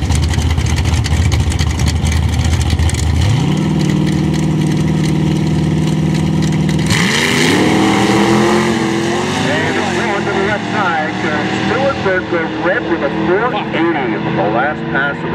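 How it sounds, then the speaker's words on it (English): Drag racing cars at a dragway, including a 468-powered Ford Mustang, roar loudly at the launch, engine pitch rising in a sustained, sweeping drone that continues through the pass, with a commentator talking over it. "Stuart Burke from Hatchet Lake, the trick engine, 468 powered Ford Mustang."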